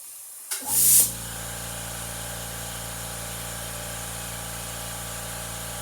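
An airbrush sprays ink onto a small hologram fishing lure, a sudden close hiss that swells briefly and then settles into a steady, even airflow hiss.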